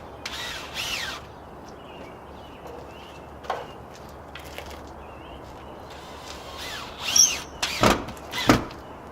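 A power drill drives screws to fix a jig in place while replacing a window with a thicker one: short, close bursts of whirring separated by quiet gaps, the last few louder.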